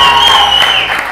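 Studio audience applauding on a TV morning show, a steady dense wash of clapping lasting the whole second, loud and close with no voices over it.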